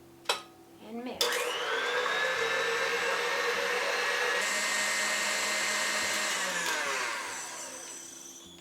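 An electric hand mixer whips egg whites with cream of tartar for a butterscotch pie meringue, starting with a brief clatter, then running as a steady loud whir for several seconds before winding down.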